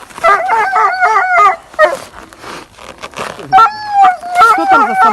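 A stray dog being caught and choked by dog catchers lets out loud, high whimpers and yelps in broken bursts while people argue nearby.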